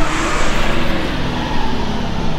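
The tires of a rat rod truck spin in a burnout under a loud, continuous engine roar with road rumble, steady and close, swelling slightly midway.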